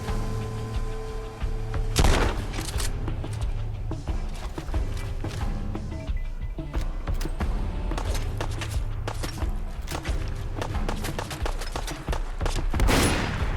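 Combat gunfire in Fallout London, including pistol shots, cracking repeatedly at irregular intervals with some sharper louder bursts and thuds mixed in, continuous game noise without talk.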